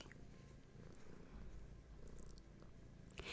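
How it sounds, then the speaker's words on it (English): A cat purring steadily and close, a low continuous rumbling throb that runs the whole time with a faint rustle near the end. "Sure you can hear her purring."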